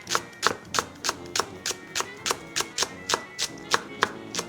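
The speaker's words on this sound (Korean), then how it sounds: "대파 뿌리 쪽 1대 준비해서 송송 썰어" A knife cuts green onion on a cutting board in a steady run of about thirteen crisp, close chops, evenly spaced and loud, with no voices.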